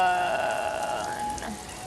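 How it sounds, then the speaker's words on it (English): Steady rain falling in the video game Disco Elysium, a continuous hiss with a faint tonal music bed beneath, lasting throughout at an even level. "And it's raining?"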